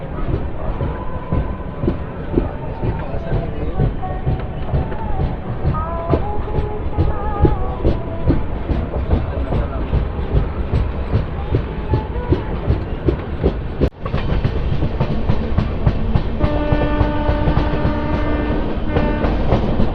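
Janmabhoomi Superfast Express train running on rails after leaving Samalkot Junction, a loud continuous rumble with rhythmic clickety-clack, a brief break midway, then a sustained horn tone near the end.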